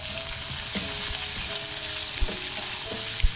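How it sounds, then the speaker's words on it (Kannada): Finely chopped onions frying with urad dal in a hot pan, a continuous close sizzle broken by occasional scrapes and taps of a spatula as they are stirred, with no talking. "ನೋಡಿ, ಈರುಳ್ಳಿದು ಹಸಿ ವಾಸನೆ ಹೋಗಿ ಸ್ವಲ್ಪ ಕೆಂಪು ಬಣ್ಣ ಬರೋ ತನಕ ಫ್ರೈ ಮಾಡ್ಕೊಳ್ಳೋಣ."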